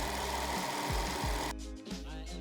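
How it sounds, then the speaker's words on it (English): An overlocker runs steadily while finishing the cut edges of a thrifted cardigan, a quiet buzzing hum with a brief change partway through, no talk. "I'm just overlocking the edges now just so we don't get any fraying when we wear it and when we wash it"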